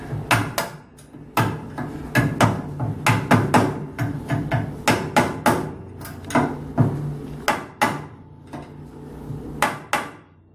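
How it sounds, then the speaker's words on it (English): An Allen wrench or screwdriver taps a snap ring onto a gas scooter driveshaft, making a series of sharp, close metallic clicks and knocks in uneven bursts with short pauses between them, and no voices. "take some type of Allen wrench or screwdriver and rotationally tap the snap ring in place"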